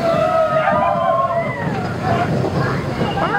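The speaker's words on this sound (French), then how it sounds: "il y a déjà la cascade qui est en fonctionnement d'ailleurs" A waterfall runs at the Tokyo DisneySea theme park near the Future-themed entrance, a steady rushing slosh of water under a murmur of crowd chatter.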